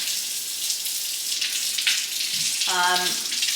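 Water poured into a bowl sitting on a kitchen scale for sourdough, a steady hissing stream with a rising gurgle as the bowl fills toward the end, heard alone.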